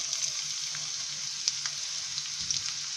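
Finely chopped onion fries in a pan for an idiyappam biryani, a steady bright sizzle with scattered pops and crackles, close and unbroken, with no talking.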